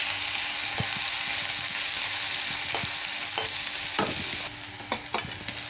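Onion, chili and garlic frying together in a pan, a steady close sizzle broken by several scraping stirs, with no speech.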